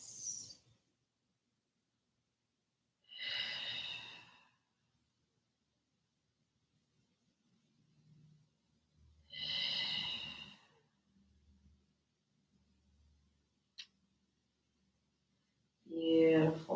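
Slow, deep yoga breaths during a supportive backbend: three long, close breathy exhales spaced several seconds apart, with soft rustling and quiet gaps between them.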